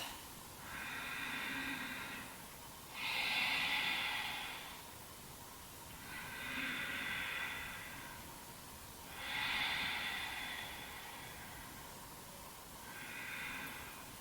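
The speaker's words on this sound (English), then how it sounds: "This is an audible breath that we practice to keep the heat that we build in the body." Slow, audible Ujjayi breathing during a Hatha yoga practice: five long, soft, ocean-like hissing breaths alternating between inhale and exhale at an even rhythm, close and quiet with no talk.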